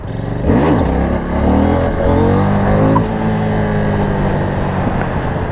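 A Husqvarna Vitpilen 801 motorcycle engine revs up sharply near the start, then settles into a loud, close, throbbing idle with rising and falling revs over several seconds.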